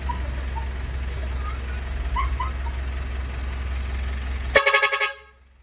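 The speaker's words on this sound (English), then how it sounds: "DIY air horn project." After a steady background rumble, a single loud, brassy blast from a homemade air horn sounds for under a second, then everything cuts to near silence.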